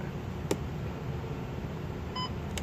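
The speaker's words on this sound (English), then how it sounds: "hold it until we hear a beep" One short, faint electronic beep from a 2013 Ford F-350 memory seat switch sounds near the end, under a quiet cabin hiss with a couple of soft clicks.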